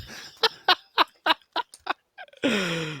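Chickens on the Inferno map in the video game CS:GO cluck in a run of about ten short, sharp clucks at an even pace, followed by a louder drawn-out squawk that ends the sequence.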